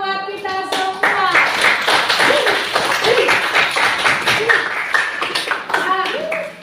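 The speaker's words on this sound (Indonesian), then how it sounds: "Tepuk tangan buat kita semua." A group of students in a classroom claps hands together in a quick, lively burst of sharp, crisp slaps. A teacher's voice and children's chatter mix in over the clapping.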